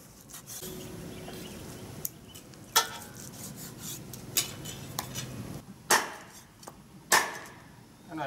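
A knife chops large duck meat into mince on a board, with irregular sharp knocks and scrapes about once a second over a low background rumble.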